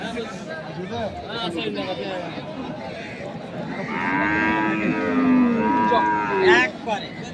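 A desi Sahiwal bull at a busy cattle market in Kaharol, Dinajpur, lets out a long, loud, close moo that rises and falls, under people talking and the chatter of the crowd.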